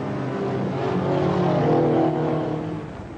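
Banger racing cars circling an oval track at a local race meeting, a loud continuous engine roar that swells in the middle and then fades slightly, with no talk.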